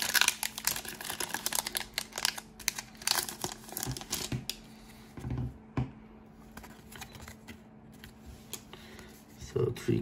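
A Pokemon Champion's Path booster pack is torn open. Its foil wrapper gives close, loud bursts of crinkling and ripping, followed by quieter handling and shuffling of cards.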